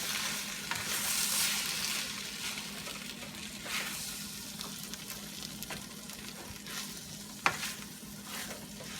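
Vegan lettuce wrap filling sizzles in a pan as cooking sauce is stirred in, a soft continuous frying hiss with intermittent utensil scrapes and a sharper knock near the end, fairly quiet and without speech.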